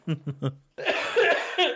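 A man coughs three times in quick succession, close and loud, then breaks into laughter.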